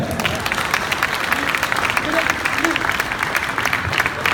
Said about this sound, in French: J'aimerais ça qu'on les applaudisse,